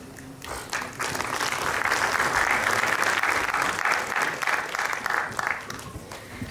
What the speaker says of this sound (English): Can we have a round of applause for his compelling presentation?